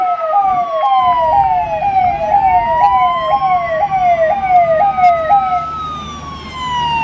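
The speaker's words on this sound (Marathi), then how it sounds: "यानंतर अग्निशमन वाहन." A municipal fire engine siren sounds during a parade at a flag-hoisting ceremony, a loud rising-and-falling wail with a faster yelping tone layered over it, close by with road traffic rumble beneath, fading slightly near the end.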